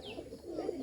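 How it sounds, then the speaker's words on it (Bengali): A Bombay pigeon gives a short soft coo, faint and close, a single brief rolling call with a light chirp at its start. "এই যে ডাকতেছে বোম্বাই কবুতরটা অনেক সুন্দর"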